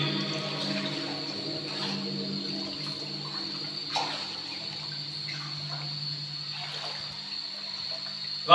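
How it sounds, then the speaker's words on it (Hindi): Water drips and trickles inside a large tunnel beneath a canal, faint echoing drops over a steady hum, with a few louder splashes toward the end. "पानी टपकता हुआ"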